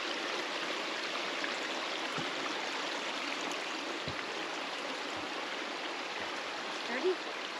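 Water running and draining through a beaver dam on an Ontario hiking trail, a steady close rushing stream with no let-up and faint talk underneath.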